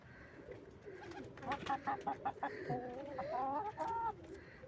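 Backyard chickens in a coop clucking and cooing, a run of short repeated clucks followed by warbling calls, fairly close but soft, over a low background hiss.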